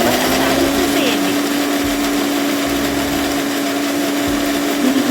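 A kitchen mixer grinder whirs steadily and loudly while grinding soaked urad dal into batter, with a constant motor hum throughout.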